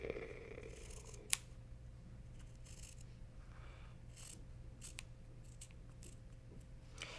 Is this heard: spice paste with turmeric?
no